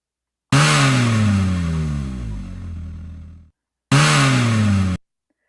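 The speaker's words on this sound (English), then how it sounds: "And then we have our car revving engine sound" A car engine revving hard, rising and falling over about three seconds, then a second short burst of revving after a brief pause, loud and close with no voices.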